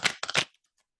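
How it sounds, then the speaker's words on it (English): Tarot cards being cut and shuffled by hand, three quick crisp riffling bursts close up within half a second, then a few faint ticks fading into silence. "I'm just cutting and shuffling these cards."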